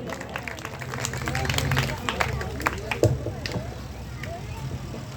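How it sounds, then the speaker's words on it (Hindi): Applause at an award distribution and closing ceremony in Kotdwar, a scattered round of clapping from a crowd amid background chatter. "जोरदार ताली।"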